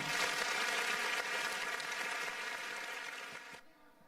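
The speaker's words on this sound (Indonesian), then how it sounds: "Kita sambut dengan tepuk tangan yang meriah." Audience applause at a fashion show, a dense, even patter of many hands clapping that stays steady for most of its length, then drops away sharply near the end.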